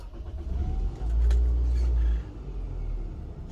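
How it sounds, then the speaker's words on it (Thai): A 2004 Toyota Wish 2.0 wagon engine idles with a low rumble, briefly rising in a short rev before settling back to a steady idle. "เดี๋ยวมาฟังเสียงเครื่องยนต์กันนะคะ"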